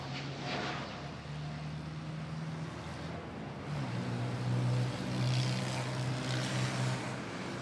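An Airbus A350-900 takes off from Manila Airport bound for Hong Kong, producing a steady, fairly distant jet roar with low droning engine hum that swells slightly toward the end.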